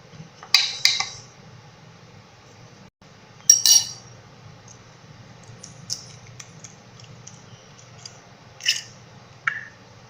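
Chicken pakora batter with egg and spices being mixed in a bowl, giving a few sharp clinks and scrapes of a utensil against the bowl in scattered bursts over a low steady background hum.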